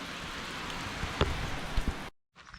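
Steady rain falling outdoors at a home garage, a dense even wash of drops with a couple of louder nearby drips before cutting to near silence.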